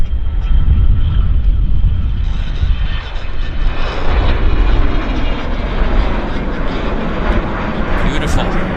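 A Global 500 business jet takes off at Vancouver Airport, its engine roar loud and continuous, building and spreading broadband throughout, with a voice talking over it.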